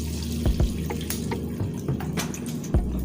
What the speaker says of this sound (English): pouring some palm oil